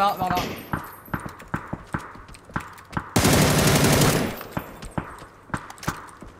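Gunfire in the battle royale game PUBG: a series of sharp single shots spaced through the clip, with a loud sustained burst of rapid automatic fire in the middle, over a quiet background.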